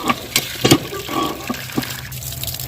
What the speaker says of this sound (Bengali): তো আমি এখন সবগুলো ধুয়ে নিই